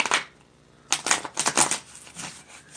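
Tarot cards being shuffled by hand in a series of quick, close riffling bursts, a short flick at the start, then a pause before a denser run of crisp card slaps and flutters.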